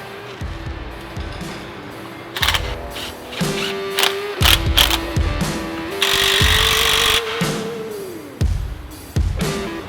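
Power tool tightening bump stop bolts on a Toyota Tacoma during an off-road strike plate install, heard as repeated short whirring bursts of varying length with brief gaps, fairly close and clear with no talk.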